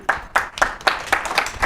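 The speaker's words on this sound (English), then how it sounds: "we even got some people clapping with the sides" Seven evenly spaced claps from an audience ring out close and crisp in a steady rhythm, with no talking.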